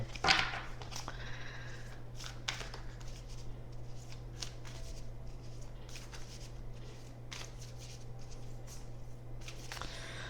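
Tarot cards being shuffled by hand in a quiet room: repeated soft riffling and flicking bursts, close and fairly faint, over a steady low hum with no talking.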